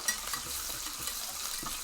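A whisk stirs gravy made from a packet mix and a cup of water in a pan, giving a soft, continuous scraping swish with light rhythmic strokes and no talking.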